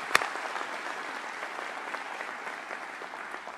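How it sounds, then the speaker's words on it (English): Steady clapping from an audience at a Montgomery County cabinet meeting, a sharp single clap up front and then an even, sustained round of applause that carries on at moderate level with no talking. "Let's give her a round of applause for being our MC."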